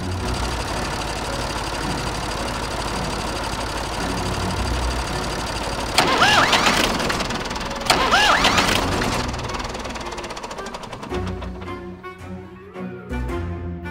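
An old tractor engine chugs steadily at idle, with two louder revving bursts partway through before the sound fades and changes near the end.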